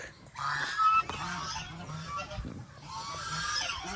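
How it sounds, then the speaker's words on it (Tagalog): Geese honk loudly and repeatedly close by, their nasal calls overlapping over a low background hum. "So nandiyan din yung ating mga gansa."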